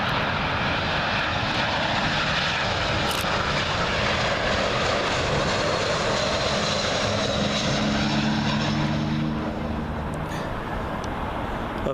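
Middle East Airlines Airbus A320 arriving at Heathrow from Beirut, a loud continuous engine roar with a whining tone that sweeps and shifts as the plane passes overhead, alone without talk.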